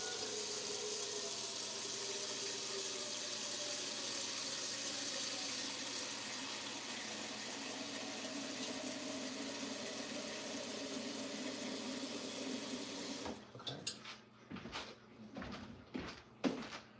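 Water from a kitchen faucet pours steadily into a pot for steaming broccoli, a continuous close rushing stream lasting about thirteen seconds before it shuts off, followed by a few clanks and bumps.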